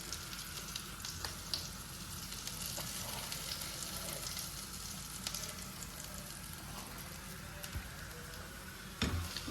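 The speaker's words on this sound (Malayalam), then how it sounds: "നമ്മൾ ഈ ബട്ടർ നന്നായിട്ട് കോൺഫ്ലോർ കൊണ്ട് മിക്സ് ആവണം." Butter and cornflour mixed in a hot pan for white sauce pasta, giving a steady soft sizzle with faint scraping stirs throughout, no voices.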